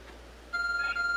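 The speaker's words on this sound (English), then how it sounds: "There's a glowing, beeping object over there." A glowing object in Pokemon Legends Arceus gives off a faint, steady electronic beep that starts halfway through and holds a clear high tone over a quiet background hum.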